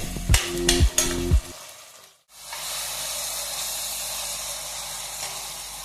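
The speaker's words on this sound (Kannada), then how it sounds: "ವೆಜಿಟೇಬಲ್ಸನ್ನು ನಾವು ಹೈ ಫ್ಲೇಮಲ್ಲೇ ಫ್ರೈ ಮಾಡ್ಕೋಬೇಕಾಗುತ್ತೆ." Vegetables for upma frying on high flame: a few sharp scraping stirs open the passage, a short pause follows, then a loud, even sizzle hisses on steadily close by.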